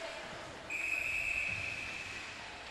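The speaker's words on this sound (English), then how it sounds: "A whistle here about a minute in." A referee's whistle blasts once at a girls ice hockey game in an arena, a long shrill piercing tone over distant crowd murmur.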